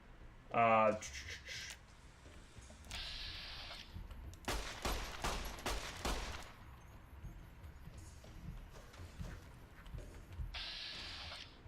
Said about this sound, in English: let's use this 9mm pistol.